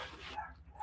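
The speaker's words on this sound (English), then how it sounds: "You can probably hear my dog; he's going a little bit bananas." A dog in a home yips and barks faintly in the background, reacting to someone passing the front door, a few brief, distant calls.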